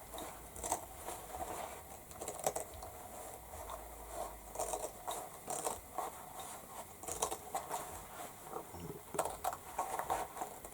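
Leather being cut all around with a blade: repeated short crisp snips and scraping cuts, close and fairly quiet, in an irregular rhythm with small pauses between strokes.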